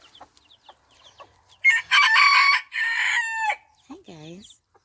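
Chickens in a summer garden make loud crowing calls and squawks, followed by a few higher chirps and clucks, up close with no talk.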